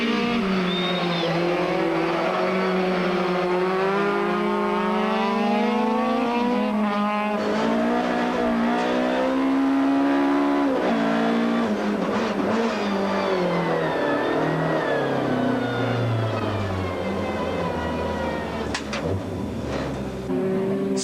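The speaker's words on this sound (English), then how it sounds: "offering excited fans the unique opportunity of seeing the cars go head-to-head in track racing" Volkswagen Golf rally cars race head-to-head on a karting circuit at the 2003 Rally of South Africa, engines loud and near as they rev hard, shift and pass, with brief tire squeals and rising and falling engine pitch throughout.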